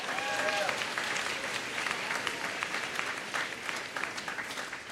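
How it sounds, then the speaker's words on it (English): Graduating high school class at a commencement ceremony applauding: dense, steady clapping from a large crowd lasting throughout, with some indistinct voices mixed in. "You can give yourselves a round of applause for that one."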